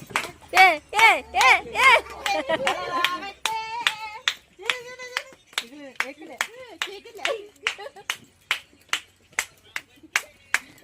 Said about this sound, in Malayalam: കയ്യടിക്ക്.